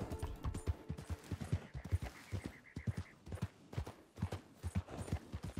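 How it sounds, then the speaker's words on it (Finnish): Horse hooves clip-clop in a fast galloping rhythm in the Red Dead Redemption 2 video game, steady and close with a brief slowing midway, alone without talk. "Loppuu stamina hepalta."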